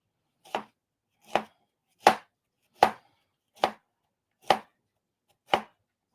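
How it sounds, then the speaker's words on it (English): Knife chopping through cauliflower on a board: seven sharp, evenly spaced chops about three-quarters of a second apart, close and crisp, with silence between strokes and no talking. "We're just chopping up our cauliflower right now."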